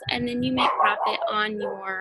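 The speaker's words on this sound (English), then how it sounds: "sorry about my dogs" Dogs bark and yip loudly and close by, several sharp overlapping barks beneath someone speaking on a business call.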